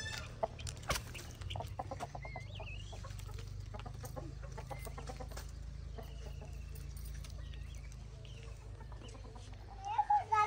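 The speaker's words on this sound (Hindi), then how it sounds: "मैंने जाने से पहले मुर्गियों को निकालना है" Hens cluck and squawk in scattered bursts close by as they are let out in the morning in a village yard, over a low steady hum with a few sharp knocks.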